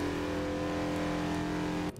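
A race car engine in the eIMSA sim racing game at VIR drones at a steady, moderately quiet pitch and cuts off abruptly near the end.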